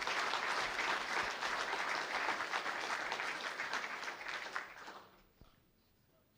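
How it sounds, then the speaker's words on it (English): An audience at a farming conference session gives a steady, full round of applause that holds for several seconds, then tapers off into quiet. "if you give her a round of applause"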